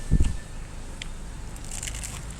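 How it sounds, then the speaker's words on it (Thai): A close, crisp crunch as someone bites into crunchy fried mala skewer food, followed by quieter chewing crackles. "เสียงดังกรอบเลยดังกรุบเลยครับ"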